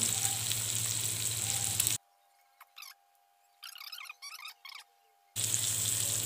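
Catfish sizzles and fries loudly in a hot Teflon pan, cut off by a quiet gap with a few soft clicks and scrapes before the sizzling resumes.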